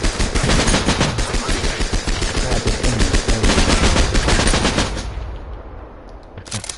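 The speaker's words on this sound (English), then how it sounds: "Listen to this sound effects. You can hear like the bullet echo and stuff." Rapid bursts of AK rifle fire in a World War II shooter game, loud and continuous for about five seconds, then trailing off into a fading echo before a brief final burst.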